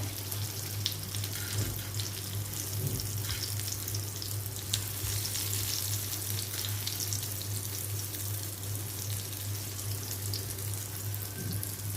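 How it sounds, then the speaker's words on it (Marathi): Raw banana slices fry in oil in a pan, a steady bright sizzle running unbroken and fairly loud throughout with a low hum underneath and no talking. "सारखं पलटी एकदा दोनदा करून आपल्याला ते फ्राय करून घ्यायचं आहे"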